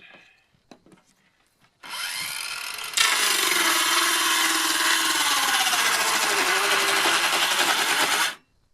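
A Bosch 18V cordless saw run on a 12-volt supply cuts wood, starting with a motor whine that becomes a loud, steady rasping cut lasting several seconds before stopping abruptly.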